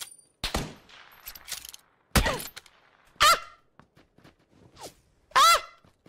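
Gunfire in the PUBG battle royale video game comes as several sharp, loud cracks spaced a second or two apart, separated by quieter stretches of rustling and faint movement.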